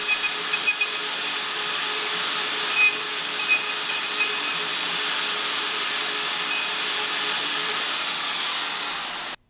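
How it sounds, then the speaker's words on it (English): Festool MFK router cutting a strike mortise for a lockset with dust extraction attached, a loud, continuous high-pitched whine and vacuum roar, steady and close, ending abruptly. "The Festool MFK router is perfect for cutting latch and strike mortises."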